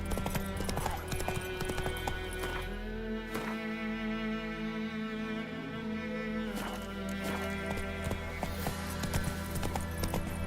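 Horse hooves galloping in The Witcher 3: Wild Hunt, a steady rapid clip-clop rhythm running throughout, loud and close over a dense game soundtrack and ambience.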